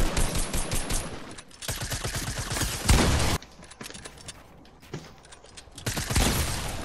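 Bursts of rapid gunfire and shotgun blasts during a Fortnite Battle Royale Season 8 match, loud and dense in clusters with short quieter gaps between volleys.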